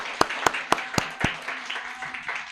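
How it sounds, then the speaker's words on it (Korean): A small church congregation claps at a Sunday service to welcome visitors, a few loud separate claps at first, then thinning into softer scattered clapping. "우리 박수로 환영하겠습니다."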